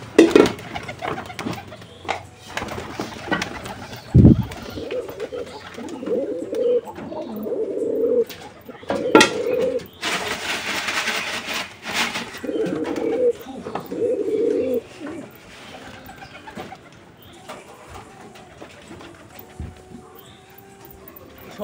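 Pigeons pecking at crushed eggshells and cooing, a pigeon pox treatment feeding; repeated soft low coos come in bursts over faint pecking and ambient noise, with a sharp knock partway through.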